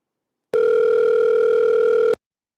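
A steady electronic telephone ring tone on a call-in show line sounds for about a second and a half, loud and unbroken, starting and stopping abruptly with no talk over it.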